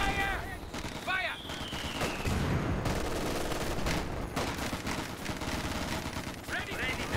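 Sustained battlefield gunfire in Company of Heroes 2, with dense crackling rifle and machine-gun shots and distant booms, heard steadily at moderate level under shouted soldier voices.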